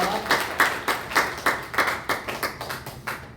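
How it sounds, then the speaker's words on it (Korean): Church congregation at a Sunday service claps in a fairly regular rhythmic beat, about a dozen distinct strong claps in sequence, with some voices mixed underneath. "자, 다시 한번 박수로 감사합니다"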